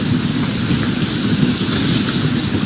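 Sudden rain falls on a mountain in a loud, unbroken hiss of dense drops, steady from start to finish with no voices.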